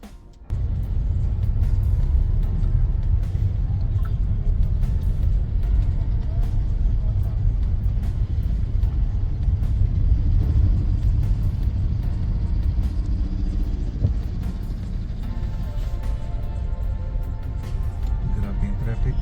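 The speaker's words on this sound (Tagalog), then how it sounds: "Grabe yung traffic." Heavy road traffic in the Philippines heard from inside a moving vehicle, a steady loud engine rumble and road roar throughout, with people talking over it.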